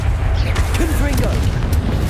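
A Confringo blasting spell explodes in Hogwarts Legacy as a loud, booming, rumbling blast with crackling bursts layered on top. A voice is also heard in the mix.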